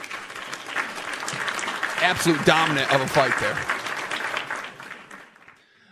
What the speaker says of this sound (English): I gotta hit the applause for him.